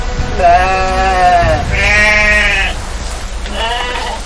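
A goat bleats three times in quick succession, loud and close, each call a wavering nasal cry with short pauses between.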